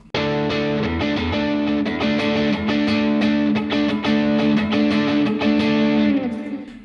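Electric guitar played through overdrive, reverb and delay for a rock tone, ringing out in loud, sustained distorted chords for about seven seconds with no talking.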